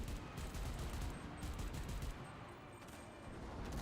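Continuous gunfire in the WWII shooter Enlisted, a dense unbroken rattle of shots from nearby weapons including Liberator pistols and a Lee Enfield, loud throughout with no talking.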